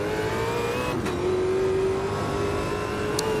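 A race car engine revs steadily at Bathurst in Automobilista 2, a loud, close, sustained whine that climbs in pitch with a brief gear change, with no talk.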